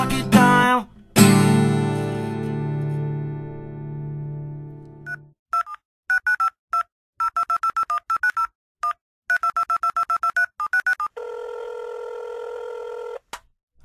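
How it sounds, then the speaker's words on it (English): Touch-tone telephone dialing from an accidental pocket dial: a rapid, irregular run of short DTMF beeps in bursts, closing with a steady dial or busy tone, after an opening swell of musical chimes; no talking. "The Dave J Pocket Dial."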